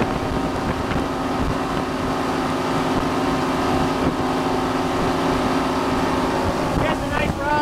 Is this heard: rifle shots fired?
no